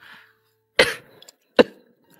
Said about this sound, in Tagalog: Mukhang malala na yung ubo mo.